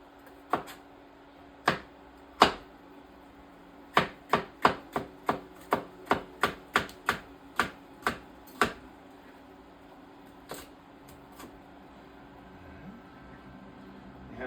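Knife chopping poblano peppers with soft spots on a cutting board, a series of sharp close taps in irregular clusters, quickening into a rapid run midway, then a few scattered cuts.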